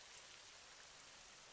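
Light rain in a cartoon scene falls as a soft, steady patter of drops, faint and even throughout, with no voices over it.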